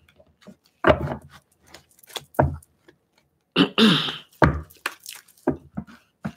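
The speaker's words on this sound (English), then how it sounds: "I need to blow my nose" Someone blows their nose at close range: two loud, noisy blasts with smaller snuffles and sniffs scattered between and after them.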